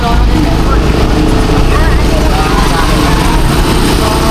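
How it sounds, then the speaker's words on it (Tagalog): A boat motor drones loudly and steadily close by, a heavy low rumble that never lets up, with voices talking over it. "Larga na motor."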